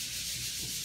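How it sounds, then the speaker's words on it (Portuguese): Abrasive sanding of a ceiling freshly coated with fine skim-coat filler makes a steady, close scraping hiss, with no pauses over the short stretch. "Então, vamos estar lixando, tá dando aqui o skin cold, né? Que é uma massa corrida bem fininha, só para tirar os defeitos"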